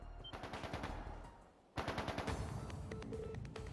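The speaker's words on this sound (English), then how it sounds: "that sound, gunfire from deeper in" Rapid bursts of automatic gunfire in the video game The Legend of Heroes: Trails of Cold Steel III rattle in quick succession, pause briefly, then resume with steady repeated shots, loud and close with no talking.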